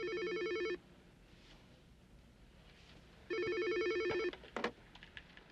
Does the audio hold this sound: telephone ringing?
yes